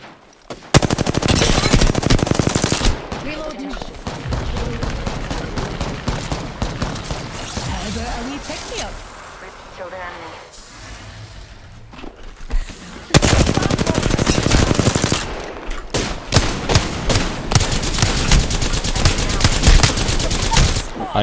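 G7 Scout rifle gunfire in Apex Legends: loud, rapid, sustained volleys of shots with a quieter lull in the middle, then renewed heavy firing, with players talking underneath.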